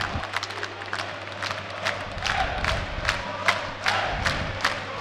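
Fans in an ice hockey arena at a Prostějov versus České Budějovice game clap in a loud, regular rhythmic beat, roughly two claps a second, over a roar of cheering crowd noise.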